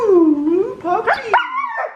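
A puppy close by makes a loud, drawn-out howling whine that rises and falls, then breaks into short yips and whimpers.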